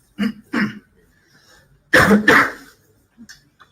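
Several short human coughs: two quick ones, a pause, then a louder double cough, and a faint small cough near the end.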